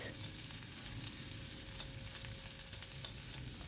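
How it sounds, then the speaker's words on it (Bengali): Diced onions fry in hot oil over a five-spice tempering of white cumin, black cumin and fennel, a steady close sizzle with faint crackles and no talk. "এবার দিয়ে দিলাম ডুমো ডুমো করে কাটা পেঁয়াজ"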